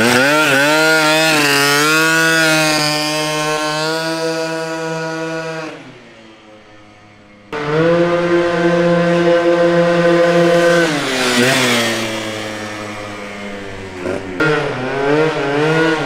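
Loud, close revving of a 72cc Honda Elite Dio scooter engine fitted with a Polini Corsa kit and Arrow pipe, rising and falling in pitch, briefly dropping to idle before revving hard again.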